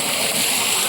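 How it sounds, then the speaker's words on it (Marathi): Small forest waterfall in the rainy Konkan, a steady broadband rush of falling water, close and continuous with no pauses. "हा बघा छोटा धबधबा"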